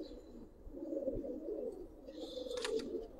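Domestic pigeons cooing softly at a pigeon seller's, low murmuring coos repeating close by, with a brief higher chirp near the end.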